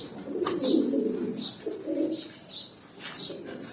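A pigeon coos nearby in soft, low, repeated throaty phrases, with faint higher chirps from other birds in the background.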